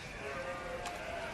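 Sheep feeding on a cheese farm bleat faintly among steady munching and rustling, with one brief, brighter call rising midway through the short stretch.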